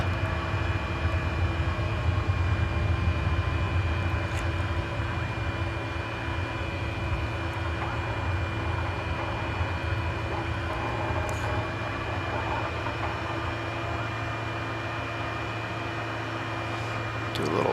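A simulated aircraft engine in Microsoft Flight Simulator 2020 during back taxiing on a runway, a steady, droning hum with layered tonal whine, loud and unchanging throughout, with no voices.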